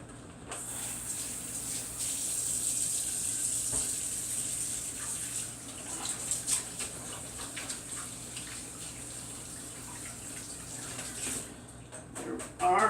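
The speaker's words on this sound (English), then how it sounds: "Let me wash my hand real quick." A kitchen tap runs while hands are washed beneath it, a steady soft hiss of flowing water with light splashing and irregular rubbing sounds, fairly faint throughout before a brief clatter at the end.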